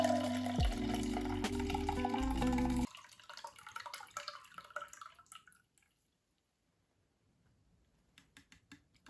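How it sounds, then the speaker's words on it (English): A canned tapioca drink poured into a glass: a loud gurgling, glugging pour for the first few seconds, then a few faint drips and small clinks before near silence. "what I'm going to do is I'm going to pour it in this glass"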